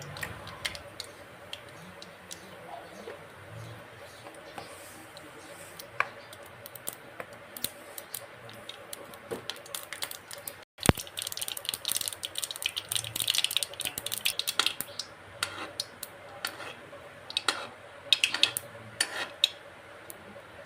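Mustard seeds dropped into hot oil while cooking a parval curry: quiet at first, then faint crackling pops and spits start up about halfway through and continue irregularly to the end.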